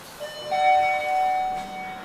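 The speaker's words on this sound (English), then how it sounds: "Loud chime." A Shanghai Mitsubishi Elenessa machine-room-less elevator at a Moscow commuter train station sounds a loud electronic chime, a steady sustained tone of about a second over low hum from the car.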